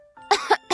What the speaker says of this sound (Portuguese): A flor tossiu.